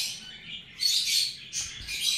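Pet birds chirp and tweet near a feeding spot stocked with a seed mix of oats, niger and egg food plus a corn-based feed, bursts of high bright calls coming in clusters, close and fairly clear.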